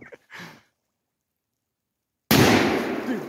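A firecracker goes off under water with a sudden, heavy muffled boom after a pause of near silence, followed by a loud, broad wash of churning water that slowly fades; a brief sigh-like breath comes before it.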